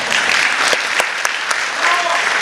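A concert audience in Aqtau applauding, dense close clapping that holds steadily throughout, with a few sharper individual claps standing out.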